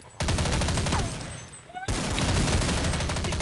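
Rapid bursts of automatic gunfire from a shooting video game crackle loudly in two sustained volleys separated by a short pause, with faint voices underneath.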